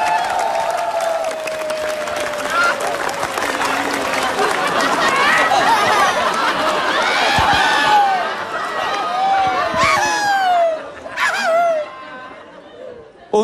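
A stand-up comedy audience on a televised show claps and cheers in a thick, steady wash of applause, with whoops, whistles and crowd chatter running throughout. It thins briefly near the end before flaring up again.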